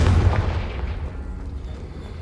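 A Confringo fire-spell explosion in the Hogwarts Legacy game starts as a heavy deep boom and then fades into a rumbling tail, loud and close with no voices over it.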